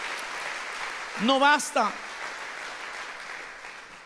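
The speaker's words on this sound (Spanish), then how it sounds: "Denle fuerte ese aplauso al Señor." A church congregation claps during a sermon, a steady background patter of applause that continues throughout while someone speaks loudly over it partway through.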